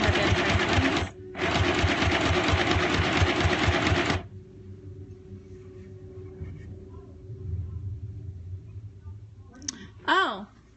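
Sewing machine stitching fabric for a handmade fabric Dori at a craft night: two loud bursts of steady rapid whirring, a short pause between them, then a quiet room with faint handling noises and a brief high squeak near the end.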